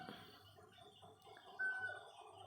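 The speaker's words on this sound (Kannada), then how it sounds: "ನಮ್ಮನೆ ಹುಂಜ ನೋಡಿ ಹೊರಗಡೆ ಯಾವಾಗಲೂ ನಾನು ಅಡುಗೆ ಮಾಡುವಾಗ ಕುಗ್ತಾನೆ ಇರ್ತದೆ ಅದು" A rooster outside a home kitchen gives a faint, distant crow with some soft clucking, heard quietly against a near-silent background.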